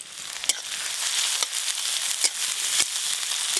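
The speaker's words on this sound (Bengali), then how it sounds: "রসুন আর পেঁয়াজ কুচি ভালো করে ভাজা ভাজা হয়ে গেছে" Chopped garlic and onion fry in mustard oil, a loud continuous sizzle close by, broken by several sharp spatters and stirring scrapes, with no talking.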